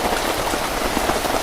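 Steady rain pouring down, a dense, even hiss of drops striking surfaces, continuous and fairly loud with no voices.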